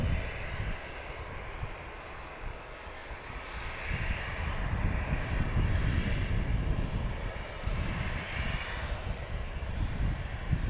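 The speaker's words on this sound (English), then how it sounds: "we do have a Ryanair just taxiing out there" A Ryanair airliner taxiing across an airport airfield makes a low, steady jet engine rumble from a distance, faint and even with no voices.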